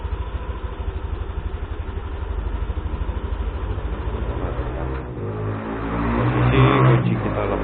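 Yamaha Aerox 155 scooter (2021) engine running at a steady idle with a regular low putter, close and fairly loud, rising slightly toward the end.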